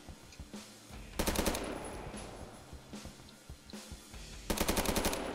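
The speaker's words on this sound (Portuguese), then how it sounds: "Primeiro eu vou dar tiro nesse moleque aqui" Automatic gunfire in Roblox Phantom Forces, two sharp bursts of rapid shots with scattered single shots between them, moderately loud with faint game sounds in the background.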